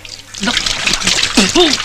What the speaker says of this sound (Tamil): பரவாயில்ல மெட்ராஸ்ல தண்ணி கிடைக்கிறதே கஷ்டம். ஊத்து தாயே.